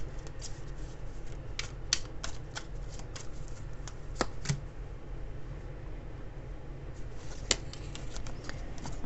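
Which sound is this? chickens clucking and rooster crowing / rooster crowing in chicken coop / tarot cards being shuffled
tarot cards being shuffled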